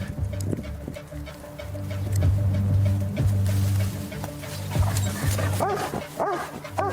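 A police dog barks repeatedly in loud, close, agitated bursts, mixed with yips and whimpers over a steady engine-like hum, with no one talking.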